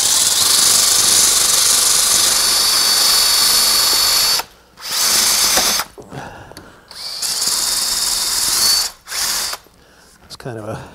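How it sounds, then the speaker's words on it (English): A high-pitched rotary tool with a sanding disc whines loudly while sanding a wood furniture model, then stops and starts again in several bursts, with short pauses between runs. "I have these little sanding discs. I'm going to bring this in."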